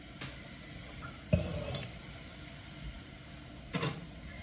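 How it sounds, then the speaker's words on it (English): Water splashes into a hot pan of cooking chicken and seasoning in two or three short, quiet squishing bursts with faint sizzle and drips between them. "Now I'm gonna put some water in here and capture all this extra seasoning"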